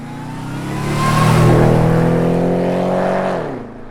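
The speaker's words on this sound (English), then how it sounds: "I captured a handful of wicked pass-by sounds as the cars arrived and left the venue." A loud muscle car engine roars past, swelling as it approaches with a deep revving growl, then dropping in pitch and fading away as cars leave a venue.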